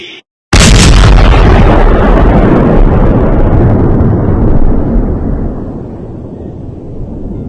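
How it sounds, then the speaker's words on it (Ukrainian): A sudden, massive truck explosion on the Crimean Bridge erupts after a brief silence, followed by a long, loud roaring rumble that slowly fades. "Це, начебто, був вибух вантажівки."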